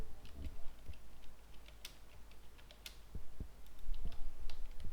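Scattered key clicks from a computer keyboard as a search keyword is typed, irregular taps and a few sharper clacks at close range over a low steady hum, with no talking.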